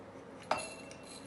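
A single sharp metallic clink of a fork against a cocktail tin while stirring demerara sugar, short and fairly close, with a faint ring afterwards in a quiet room.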